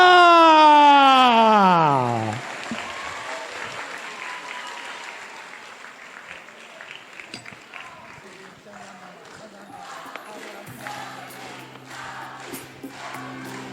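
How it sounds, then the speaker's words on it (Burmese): An audience claps for a girl receiving a cash award at a ceremony. The applause is moderately loud and continuous, following a loud falling tone at the start, with voices mixed in. "သမီးလေးတို့လက်ခုပ်တန်းနဲ့အကျယ်ကြီးကြားကြပါရခင်ဗျာ"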